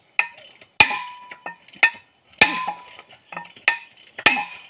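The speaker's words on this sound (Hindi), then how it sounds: "देखो ये हथौड़ा है, इसको मैं यहाँ लगा दूँ और इससे मैं इसको मारूँ।" Hammer blows on a metal part during a repair where oil could leak, about eight sharp, ringing strikes with irregular spacing, close and fairly loud, with no talking between them.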